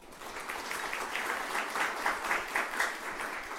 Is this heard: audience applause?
yes